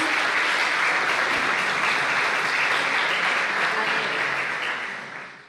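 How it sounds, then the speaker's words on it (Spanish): Loud, dense audience applause for the speakers at an education policy discussion, a sustained roar of many hands clapping that fades slightly toward the end. "un aplauso para todos los disertantes"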